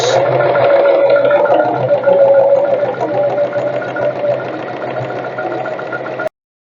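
A sewing machine stitches steadily along the edge of a fabric ruffle, running over the pins for several seconds as a continuous, even mechanical hum with fine rhythmic ticking, then stopping abruptly.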